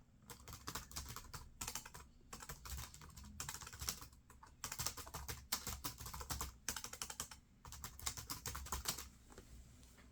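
Typing on the keyboard of an old ThinkPad X201 laptop gives rapid, rattly clicking keystrokes in quick bursts with brief pauses, close up and fairly quiet, no voices.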